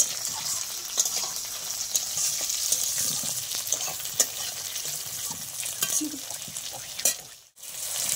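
Chopped tomatoes go into hot oil with frying onions in a pan used earlier to fry pointed gourd for a light fish curry, giving a steady, close sizzle with occasional stirring scrapes throughout.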